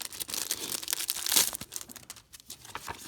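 A Sizzix instruction sheet is handled up close, producing short bursts of papery crinkling and rustling with one sharper crackle in the middle, followed by quieter shuffles.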